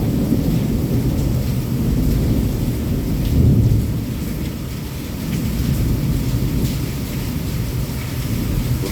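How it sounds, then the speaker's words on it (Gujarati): A nighttime thunderstorm in Vankaner with torrential nonstop rain, lightning and wind makes a steady, loud rumbling roar, swelling and easing as thunder rolls under the constant downpour. "વરસાદ સતત અનરાધાર ચાલુ છે વીજળી ચાલુ છે પવન ચાલુ છે"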